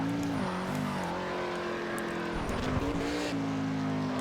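A stock car races around Monaco in the video game Project Cars, its engine droning loudly and continuously with shifting pitch as it accelerates and changes gear, with no pauses.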